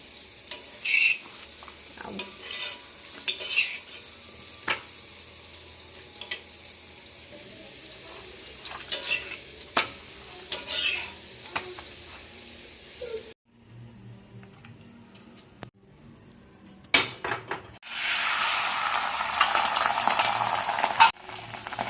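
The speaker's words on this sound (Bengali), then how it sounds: "এদিকে বেগুন ভেজে নিচ্ছে" Eggplant fries in a pan with light sizzling and occasional spatula scrapes and clinks for several seconds; after a brief lull, water runs steadily from a tap.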